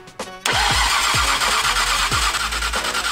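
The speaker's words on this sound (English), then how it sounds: "RB26 starter sounds so cool" Nissan RB26 engine in an R34 GTR being cranked by its starter, a loud close whirring crank with several rhythmic pulses lasting a few seconds, no catch.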